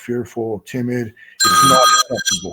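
A telephone rings loudly for about half a second in the middle of a man's steady speech, a bright electronic bell tone cutting in between his phrases.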